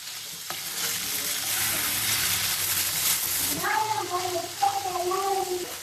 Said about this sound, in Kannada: ಎರಡು ಸೈಡು ಚೆನ್ನಾಗಿ ಫ್ರೈ ಮಾಡ್ಕೊಳ್ಳಿ. ಸ್ವಲ್ಪ ಗೋಲ್ಡನ್ ಬ್ರೌನ್ ಬರೋ ತನಕ ಫ್ರೈ ಆಗಬೇಕು.